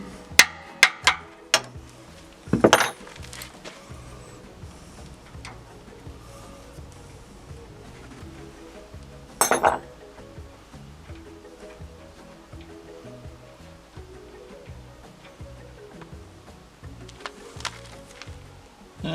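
Metal wrenches clink and clatter on and off during an oil change on a portable generator, with a cluster of sharp taps at the start and louder rattles near three and ten seconds over a quiet background.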